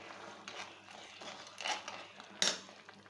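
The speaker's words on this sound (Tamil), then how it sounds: "நல்லா கலக்கி விடுங்க." Soft scraping and a couple of sharp metallic clinks as a spoon stirs crab curry in a pot, fairly close, with no talking.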